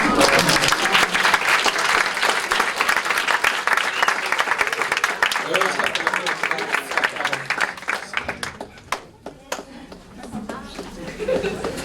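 Sustained applause from a live audience, dense and loud at first, then thinning into scattered, separate claps near the end.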